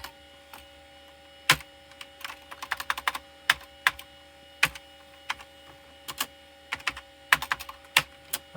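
Keys tapped one at a time on a faulty PS2 computer keyboard during a key test, irregular sharp clicks spaced a fraction of a second apart, close and clear over a low steady hum.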